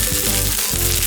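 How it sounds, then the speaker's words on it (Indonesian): Seasoned chicken fried rice sizzling and being stirred in a pan, a steady loud frying hiss with faint scraping, no voices. "Aduk kembali nasi goreng yang telah dibumbui secara berulang-ulang"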